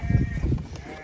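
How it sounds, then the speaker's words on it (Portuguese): Sheep bleat in a pen during a sorting job where ewes are checked for breeding, the low, rough bleats overlapping one another loudly and close for about a second. "ovelha boa para encarneirar"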